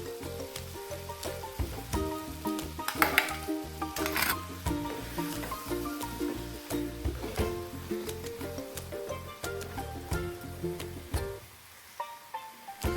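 Ground coconut paste hits an ivy gourd curry (Kerala-style kovakka theeyal) in a hot pan, giving a steady, fairly loud sizzle with rhythmic stirring scrapes throughout, easing off near the end.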